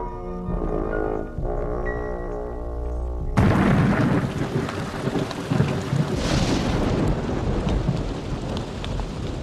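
A heavy thunderstorm with dense rain pouring onto surfaces. After a short musical opening, a loud thunder crack breaks in, followed by rolling rumbles and a steady hiss of downpour.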